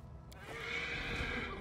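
Horses whinny in the fantasy role-playing video game Pathfinder: Wrath of the Righteous. One drawn-out, fairly loud neigh rises over low rumbling game ambience and carries on to the end.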